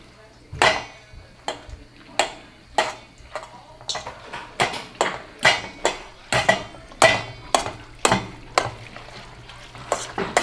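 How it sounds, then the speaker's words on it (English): Duck stir fry with sauce stirred in a pan sounds as a series of sharp, regular scrapes and clacks against the pan, close and loud, with a low sizzle underneath. "you're just going to want to mix it all together till it turns into a nice golden brown texture"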